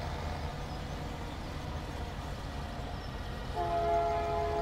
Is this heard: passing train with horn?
yes